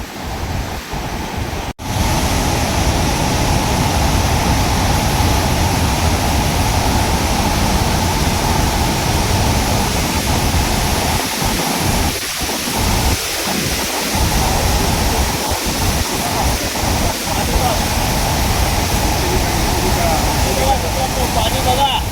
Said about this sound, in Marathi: असा विशाल महाकाय धबधबा, याचं नाव आहे कोलटेंबे